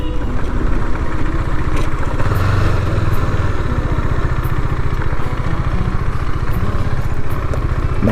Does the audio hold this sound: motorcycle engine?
yes